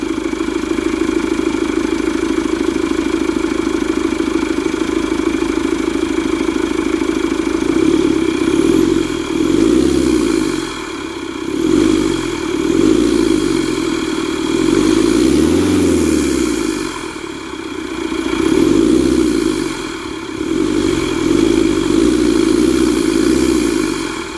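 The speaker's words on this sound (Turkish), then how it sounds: "Şimdi hafiften gaz vereceğim. Gaz verince sesini duyacaksınız arkadaşlar." A Ford Focus engine fitted with a performance air filter idles loudly up close, then is revved several times, the pitch rising and falling in repeated swells.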